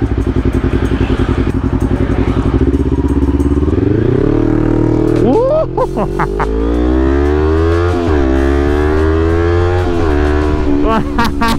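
A remapped fuel-injected Kawasaki Ninja 250 motorcycle engine revs hard and climbs through its range, the pitch rising and falling with throttle blips, loud and close throughout.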